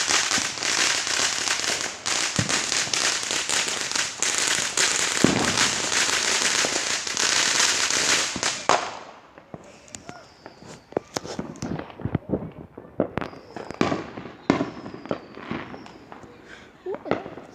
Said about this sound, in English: they're finally using their firecrackers